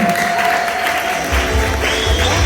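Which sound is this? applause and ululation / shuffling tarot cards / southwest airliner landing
applause and ululation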